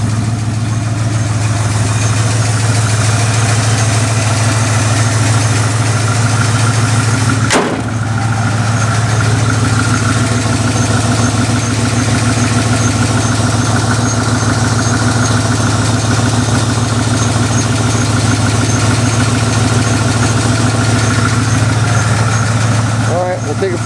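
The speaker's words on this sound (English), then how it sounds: "It's a little loud because of the exhaust leak." A 1969 Ford F100 with a 302 V8 and an exhaust leak idles steadily and loudly nearby, a constant low rumble with a faint rhythmic pulse, broken by one sharp click partway through.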